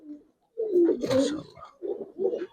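A Giribaz pigeon at a loft coos in short, close bursts, a few rolling calls in a row with brief gaps.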